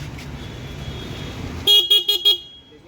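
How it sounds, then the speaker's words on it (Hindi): An e-rickshaw horn beeps four times in a quick, loud burst, close by, following a steady low hum, as it is tested after repairing the wiring. "हमारा हॉर्न बज रहा है"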